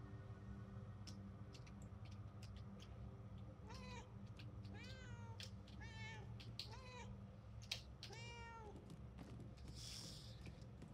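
A cat meows several times in the video game Murdered: Soul Suspect, short rising mews repeated at intervals over a quiet ambient game backdrop, faint and close.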